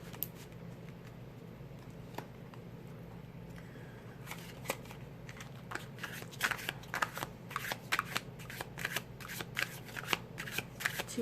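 A deck of oracle cards for a divine feminine reading is shuffled by hand, starting with soft, sparse riffling and building into quick, close, crisp flicks and snaps that grow louder in the second half.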